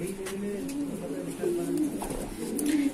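Madrasi pigeons coo repeatedly inside a loft, the low rolling calls coming close and steady while people talk over them throughout.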